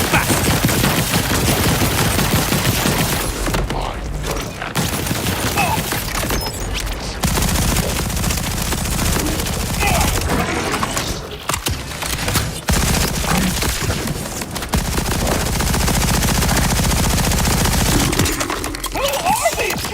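Continuous video game gunfire in Borderlands 4, dense rapid bursts of automatic shots with booms layered over game action for the whole stretch, loud and busy with brief dips.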